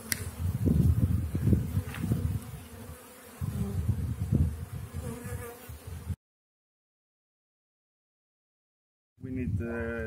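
Honey bees buzz steadily around an open hive during queen rearing, a close droning hum under a person talking, broken by a few seconds of dead silence before the buzzing and speech return.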